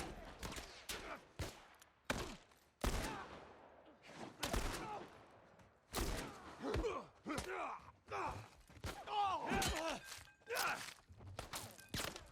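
Gunfire in The Last of Us Part I while shooting at an enemy: several sharp reports scattered through the stretch with footsteps, grunts and movement in between, loud and close, with no clear voices.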